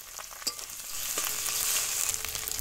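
Ginger paste hits a frying pan with chillies and garlic paste already in it and sizzles, building from a few scraping stirs into a loud steady hissing fry, near and continuous, with no talk.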